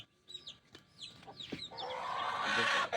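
A hen clucks several times in short, nearby calls, followed by a rising rustle of noise at the end.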